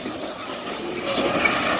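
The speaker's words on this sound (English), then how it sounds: "Just think of the immense power that locomotive has to pull all that weight." Freight train cars roll past nearby, a steady broadband rumble and rush with faint metallic squeal, growing slightly louder toward the end.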